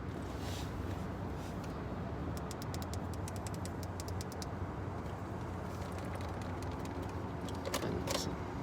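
A car in Aberdeen, Washington with an electrical issue fails to start: a rapid run of faint clicks sounds midway through, over a steady broadband rumble.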